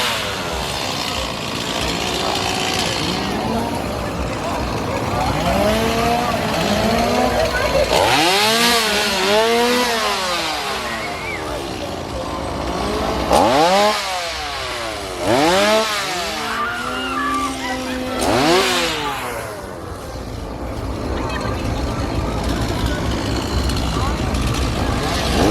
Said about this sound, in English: The chainsaws are here right now.